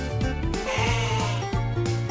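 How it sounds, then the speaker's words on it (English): A goat bleats in a steady, wavering call that runs close and loud through the whole short stretch, with no voices. "I am a goat."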